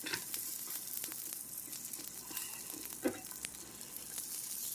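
Zucchini sliders sizzle steadily in a hot pan, a continuous close crackling fry with small pops throughout and no one talking.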